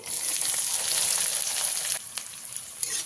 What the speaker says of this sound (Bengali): ফোড়নটাকে একটু ভাজা ভাজা করে নিতে হবে।